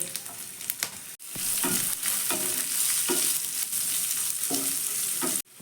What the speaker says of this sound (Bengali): আগে আমি পেঁয়াজটাকে দিয়ে দেবো পেঁয়াজটা হালকা একটু ভাজা হলে